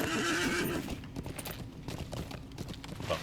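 In a video game, a horse whinnies clearly at the start, then hooves clip-clop in a quick uneven rhythm, fairly close and moderately loud.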